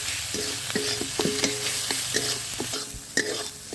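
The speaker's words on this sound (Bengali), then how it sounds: "মশলাটা ভালোভাবে কষিয়ে নিয়ে" Masala of turmeric, chili powder and salt stir-fried for an egg curry, with a spatula scraping the pan in steady repeated strokes over a soft, constant sizzle; close and clear, no talking.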